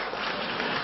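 An audience claps during an Indonesian talk: a short, dense burst of steady applause, fairly faint and even, with no voices on top.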